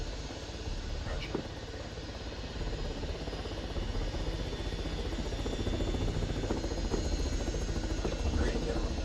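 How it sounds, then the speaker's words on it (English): A helicopter in the video game ARMA 3 drones continuously with a low, rhythmic rotor thump and engine whine, steady and prominent while voices talk over it. "Helicopter is just flying southwest, southwesterly direction from 2."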